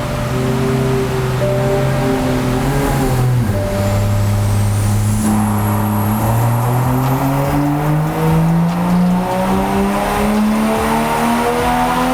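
A loud Toyota GR Supra engine with an AEM intake roars continuously under heavy load on a dyno, its pitch dipping at a gear change and then climbing steadily as it revs higher.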